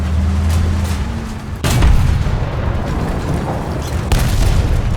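A tank's main gun fires in War Thunder, French starter tanks: two heavy, loud booms roughly two and a half seconds apart, each trailing into a rumbling decay over steady engine noise.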